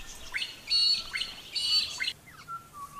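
An immature Nankeen night heron gives a few harsh, squawking calls in short bursts, fairly close, with quieter chirps trailing after against a still background.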